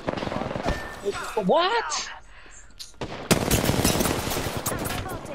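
Heavy automatic gunfire in an Apex Legends match, dense rattling bursts, close and loud. The shooting stops briefly, then comes back even harder while a player talks.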